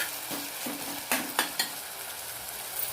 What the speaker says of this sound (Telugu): కొద్దిగా మగ్గనిస్తామండి టమాటాలు కొద్దిగా సాల్ట్ వేద్దాం